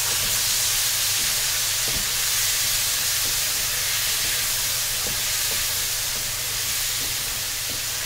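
Two large tomatoes go into a pan of frying potatoes and onions, setting off a constant loud sizzling hiss, with faint scattered ticks and pops throughout.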